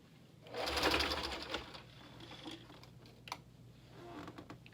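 A sewing machine runs a double line of stitching to form an elastic sleeve on a clown-style Lolita garment, with a strong burst of motor whir early on, then softer intermittent stitching and clicks, no talking.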